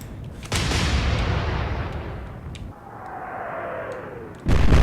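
Naval gun salvos boom in a video game, one heavy blast at the start followed by a long rumbling roar, then a fading whistle of a shell in flight before another loud blast at the end.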